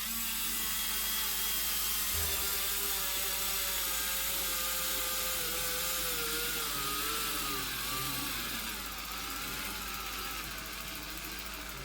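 Panasonic/Milwaukee 2-speed NiCad cordless screwdriver running in low gear with the clutch set to maximum as it drives a screw, a close steady motor whine whose pitch wavers and drifts as the load changes.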